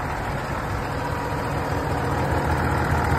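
Close, loud idle of a Mahindra Blazo X55 truck engine, a constant deep diesel rumble holding steady throughout with no speech over it.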